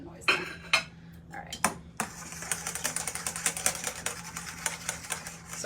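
A whisk beats egg yolks in a metal pan for a keto French lemon tart, starting with a few separate clanks and then turning into a rapid, steady metallic rattling close by.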